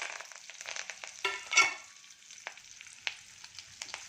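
Mustard seeds, chana and urad dal, cumin, fenugreek, dried red chillies and curry leaves sizzle in hot oil, with quiet crackling and sharp scattered pops that come close together and then thin out.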